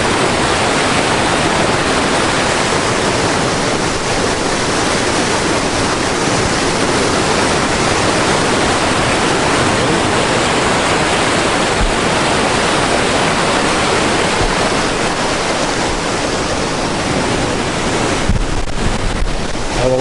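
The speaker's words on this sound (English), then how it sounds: "This is the Little Annan River." The Little Annan River, running high after heavy overnight rain, roars as a loud, constant wash of rushing water for twenty seconds, with some wind buffeting the microphone and no voices.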